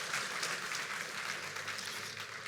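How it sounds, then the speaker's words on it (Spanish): A church congregation applauds in a steady, dense wash of clapping that holds evenly throughout, fairly distant and soft, with no voices standing out. "demos un aplauso al Señor porque nos sacó de ese mundo"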